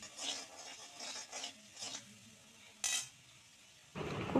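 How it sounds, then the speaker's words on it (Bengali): Spices sautéed with tomato sauce in a pan for Bengali egg tarka: soft rhythmic scraping strokes, a sharp clink, then a louder burst of sizzling at the end. "টমেটো সস দিয়ে সমস্ত মশলাটাকে ভালোভাবে কষিয়ে নিচ্ছি"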